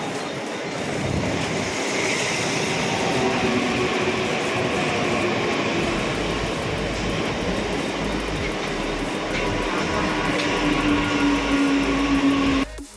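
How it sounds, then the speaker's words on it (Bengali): Mumbai suburban local train running on the line, heard from inside a fairly empty carriage: a loud steady rumble and rattle of wheels on track, with a thin squeal rising near the end before the sound drops off. "ইতিমধ্যে আমাদের ট্রেন কিন্তু ছেড়ে দিয়েছে। বলা হয় মুম্বাইয়ের লোকাল নাকি মুম্বাইয়ের জান।"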